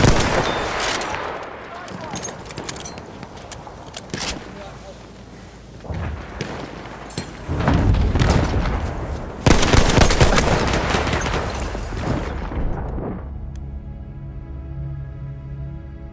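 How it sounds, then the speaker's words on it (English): Enemy machine gun fire in the Battlefield 1 video game, sustained rattling bursts with heavy booms and battle noise, rising and falling before cutting off into quieter ambience near the end. "There's an enemy machine gun."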